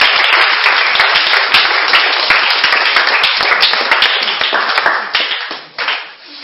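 A church congregation applauding, dense close clapping from many hands that holds steady and then thins out and tapers near the end.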